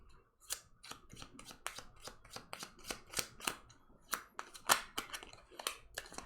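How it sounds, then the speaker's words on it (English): Game cards shuffled by hand for the board game Portal Combat, a quick run of sharp riffling and snapping bursts, close and fairly quiet, with no talk over them. "I'm gonna have to shuffle my cards."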